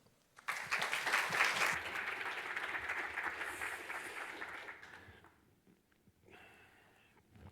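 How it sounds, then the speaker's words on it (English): An audience applauds a speaker at a talk on AI, the clapping loud and sustained for about five seconds before fading out. "Please give an applause for Lynton"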